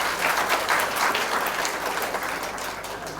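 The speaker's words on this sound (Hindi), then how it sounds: "एक बार ज़ोरदार तालियां तमाम टीचर्स के लिए" An audience at an award ceremony for 10th and 12th grade students claps steadily for the teachers, a full and even round of applause throughout.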